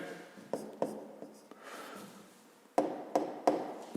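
Pen strokes scratch across paper while a physics solution is written out by hand, a series of short scraping marks with a few sharper taps, fairly close and quiet.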